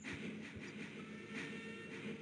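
A train in a railway video game rumbles along with a faint, steady rolling drone and soft periodic clicks, quiet and continuous with no talk.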